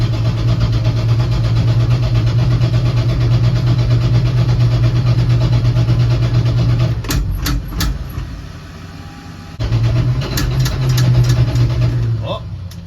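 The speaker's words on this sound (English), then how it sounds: "Cold start." The engine of a 1967 Dodge van with a carburetor runs at a steady low idle, close and loud, then drops off briefly before settling back into the same idle, with a few clicks and knocks in between.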